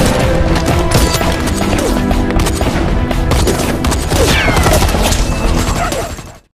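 Dense, continuous gunfire and crashing impacts from a chase scene in an Indian action film, loud and layered over a driving soundtrack for the whole stretch before cutting off at the end.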